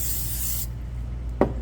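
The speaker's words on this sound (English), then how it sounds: "give it a good spray," Cooking spray hisses onto a heated waffle iron as it is readied for stuffing waffles: a steady, close spray for just over half a second, then quiet with a single sharp click a moment later.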